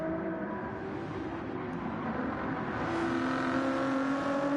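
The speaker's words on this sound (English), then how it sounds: "that Porsche went right onto the track" Porsche race car in the Gran Turismo video game, its engine holding a steady loud drone that rises in pitch as it accelerates, continuous with no talk.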